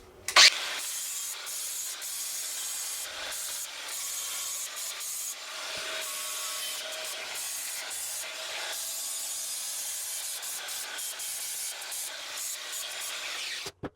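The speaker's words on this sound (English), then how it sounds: "Let's clean this crankshaft up." A tractor crankshaft is cleaned with a steady hissing, spraying wash broken by short pauses, close and continuous for most of the stretch, with no talk.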